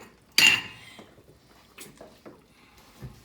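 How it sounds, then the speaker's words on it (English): Plates and dishes clatter as they are taken out during risotto cooking: one sharp ceramic clank, then several lighter knocks and clinks spread over a few seconds in a quiet kitchen. "I'll be getting my plates."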